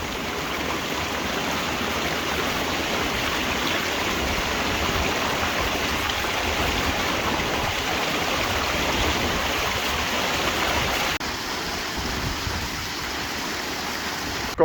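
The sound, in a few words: heavy rain downpour on a mountain climb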